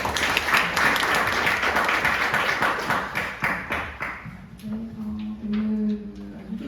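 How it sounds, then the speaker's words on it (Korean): An audience in a small meeting room at the National Assembly Library in Seoul claps for a policy debate panelist, dense applause for about four seconds that thins out, followed by quieter room sounds. "큰 박수로 모시겠습니다"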